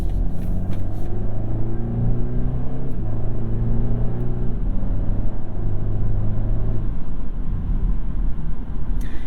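Engine of a 2022 BMW 230i accelerating on the road, a steady low rumble with rising harmonics heard from inside the car, continuous and fairly loud, with no talking.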